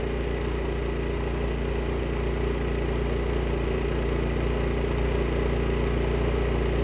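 A Predator 2500 inverter generator runs at a steady low idle after winding down, with a constant even hum and faint engine drone and no talking.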